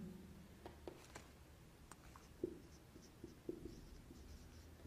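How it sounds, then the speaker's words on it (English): A name is handwritten with a pen, producing faint, quiet scratching strokes with a few soft taps in a still room. "So here we write his name, the William"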